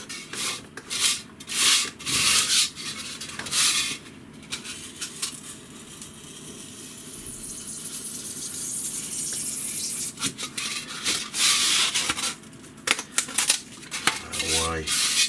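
A long-bladed hobby knife carves and scrapes at a tiny 28mm jousting miniature, giving close, dry rubbing and rasping strokes in uneven bursts with short pauses between them.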